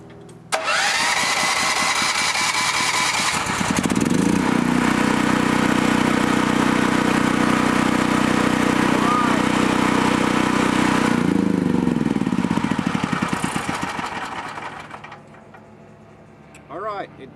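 A dual fuel generator engine fitted with a swapped carburetor cranks on its electric starter, catches, then runs at a loud, steady drone close by for about ten seconds before winding down and falling quiet.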